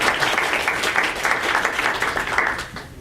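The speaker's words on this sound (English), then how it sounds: "Round of applause for that" Sustained audience applause for a panel of three speakers at a talk on badging maker learning, dense and steady clapping throughout that tapers slightly at the end, with no voices over it.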